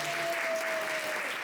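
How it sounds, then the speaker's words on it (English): Brief, steady applause from a steampunk convention audience honouring models and organizers, a continuous wash of clapping under a faint sustained tone, cut off after a moment. "So give them a quick round of applause."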